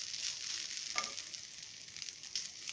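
Grated coconut sautéing in a pan for chutney gives a steady, soft sizzle with faint stirring scrapes, close by and alone without any talk.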